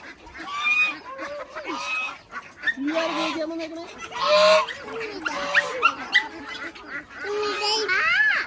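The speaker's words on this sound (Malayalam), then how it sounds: "സ്വയം പര്യാപ്തനായിട്ട് സ്വന്തമായി ഭക്ഷണം ചെയ്ത് നടക്കുന്ന കോഴിയല്ലല്ല മണിത്താറാവ്" Manitharavu ducks give loud, close, nasal honks and quacks in irregular bursts, several birds calling over one another with short gaps between calls.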